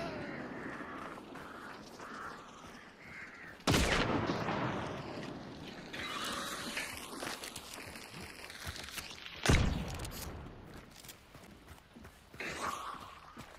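Two sharp, loud gunshots about six seconds apart ring out over a steady background of game ambience and movement noise, with gunfire from the video game Hunt: Showdown.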